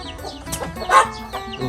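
Chickens on a chicken farm where breeding lines are crossed give a few short, close clucks in quick succession, with a sharper call near the middle, amid light farmyard background noise.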